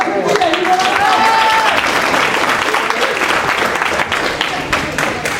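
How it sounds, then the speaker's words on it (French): A crowd at a match applauds a player named David Vincent with loud, dense, sustained clapping that fills the space, while a voice calls out over it and the applause thins toward the end. "Allez, on fait applaudir David Vincent."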